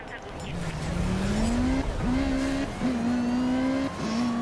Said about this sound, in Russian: Разгоняемся.